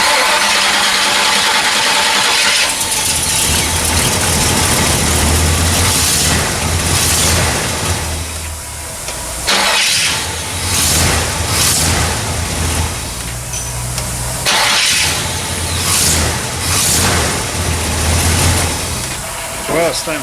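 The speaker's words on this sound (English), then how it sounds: "Let's try our new starter." New Powermaster starter on an El Camino, with the engine cranking and running loudly and close, its steady drone rising and dipping in several surges over the full stretch.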